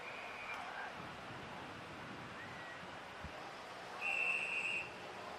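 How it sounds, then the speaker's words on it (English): A referee's whistle at an Australian football match sounds once, a single short shrill blast of under a second, moderately distant over the steady hum of a crowd and ground noise. "The whistle's gone."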